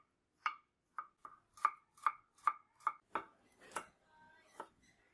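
Garlic cloves chopped with a knife on a cutting board, about ten crisp, close knocks in an uneven rhythm, then a faint scrape at the end.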